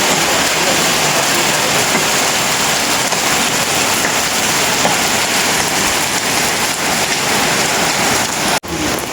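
Heavy rain falls steadily for the whole stretch, a dense, loud, continuous hiss of drops close by with no pauses, with no speech over it.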